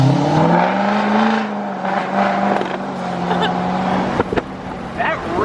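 An L5P Duramax diesel pickup accelerates on a test drive with tuning, its engine note rising steadily and loud from inside the cab. A voice talks over the engine.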